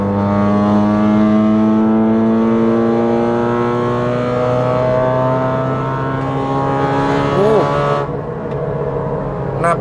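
Modified Honda Brio exhaust revving loudly, a sustained, rising engine drone with a few quick popping backfires near the end before the revs drop away.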